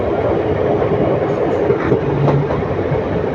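Passenger train from Erode to Ernakulam running at speed, heard from inside the carriage as a loud steady rumble with faint rhythmic wheel clatter, no talking.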